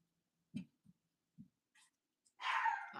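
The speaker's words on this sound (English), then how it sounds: "my gosh, that stinking dog" A dog barks indoors in a few short, separate yaps and woofs spread across a few seconds, followed by a louder, longer whining bark or yelp at the end, with no talking.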